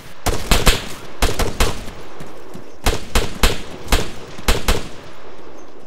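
Video game gunfire rings out in loud, close bursts of rapid shots, grouped in several clusters separated by short pauses, with no voices.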